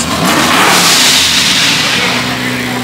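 A sports car engine revs loudly nearby, a rough roaring surge that swells and then settles slightly toward the end.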